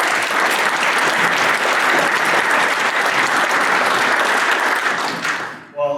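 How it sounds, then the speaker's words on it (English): A panel discussion audience applauds the panelists at a Fidelity Bank financial event. The clapping is loud and dense, holds steady for about five seconds, then fades out. "How about a round of applause for our panelists?"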